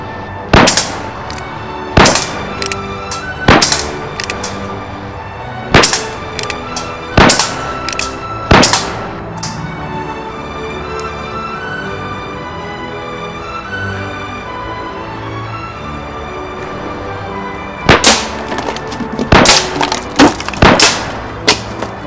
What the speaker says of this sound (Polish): Kolejna próba trafienia za 6 strzałami. 6 puszek.